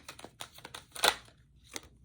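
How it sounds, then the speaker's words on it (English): Close papery riffles and slaps come from tarot cards shuffled by hand in uneven bursts, with one louder flurry near the middle and a final snap. "I'm shuffling for Gemini"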